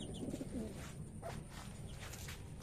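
Pigeons coo softly in a backyard bird coop, a few low rounded calls early on against steady background noise, with no talking.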